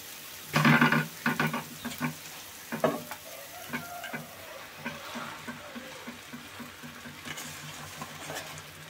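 Amaranth leaves tossed into a pan of onion and chili cooking in oil set off a loud burst of sizzling, followed by scraping stirs and a quieter, continuing fry.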